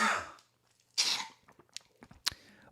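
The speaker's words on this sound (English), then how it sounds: "I was about to cough." A single close cough followed by a few soft throat-clearing and breathy sounds, quiet and isolated with no speech over it.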